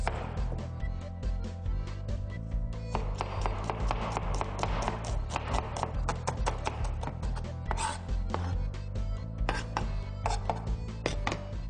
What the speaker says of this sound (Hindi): जल्दी से एक प्याज स्लाइस कर लें